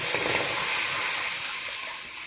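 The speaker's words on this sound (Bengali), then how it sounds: "কড়াতে পরিমাণ মতন জল দিয়ে দিচ্ছি" Water is poured into a hot karahi to make sugar syrup for gulab jamun, a steady, loud hissing gush with sizzling steam that fades slightly toward the end.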